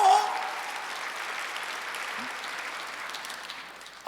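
Steady applause from a church congregation during a Sunday service, sustained and even, slowly fading slightly over a few seconds.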